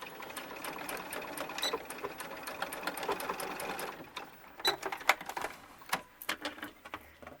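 A sewing machine stitches a small doll bustier for a ball-jointed doll, running in a fast, steady rattling burst, then slowing into short stop-start runs and clicks near the end.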